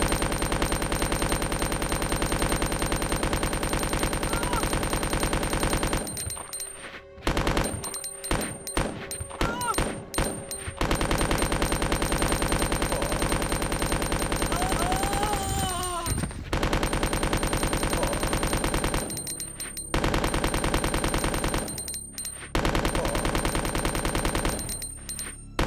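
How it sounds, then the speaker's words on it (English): Machine gun fire in the video game Resident Evil 2, as long sustained bursts of rapid shots broken by short pauses, loud and dense, with a few scattered thuds in the gaps. "So I'm gonna use my machine gun for Misty."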